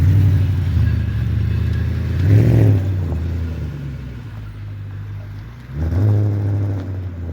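A revived BMW 645ci E63 runs close by with a low burbling idle, swelling twice into short revs and then settling back, a steady rumble throughout and no talking.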